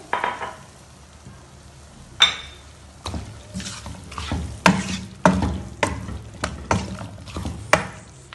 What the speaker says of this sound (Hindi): अब हम टमाटर के साथ ही इस सूप को भी डाल देंगे, ताकि टमाटर हमारे अच्छी तरीके से गल जाए।